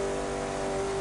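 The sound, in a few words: Koenigsegg CCR hypercar engine in video game The Crew 2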